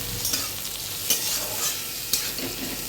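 Sliced bitter gourd sizzles in hot oil in a pan, a continuous close frying hiss with a few louder spatter bursts and light stirring, no voices.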